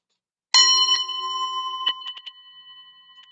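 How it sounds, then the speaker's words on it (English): A single meditation chime is struck once, ringing out with a bright metallic tone and long sustained decay, followed by a few softer, quicker taps as it fades alone in otherwise quiet surroundings. "I will commence our meditation with a chime."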